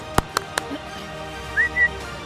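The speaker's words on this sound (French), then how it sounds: "je siffle ma sœur" Whistling to call someone, a few short sharp tones followed by two brief rising whistles, near and loud with no talk.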